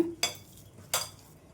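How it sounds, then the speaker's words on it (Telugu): Raw potato mixture with cumin stirred by hand in a bowl, two short soft scraping swishes a moment apart, close and alone. "ఈ విధంగా వేసేసుకొని మొత్తాన్ని కూడా కలిపేసుకుందాం"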